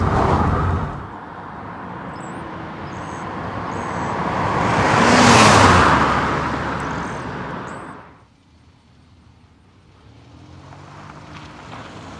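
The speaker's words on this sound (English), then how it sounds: "this Bonneville actually runs and drives very well" A cut-down Pontiac Bonneville kart drives past, its engine and rushing noise building to a loud peak and then dropping away quickly into near quiet.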